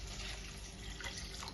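Water pours into a cooking pot holding tomato, big onion, ginger and green chilli, a continuous close splashing stream that runs steadily and quietly for the whole moment.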